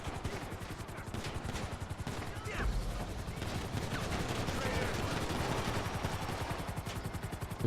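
Rapid bursts of gunfire crackle continuously during a helicopter getaway through a tunnel in GTA Online, dense, loud and sustained with a low rotor-like rumble underneath.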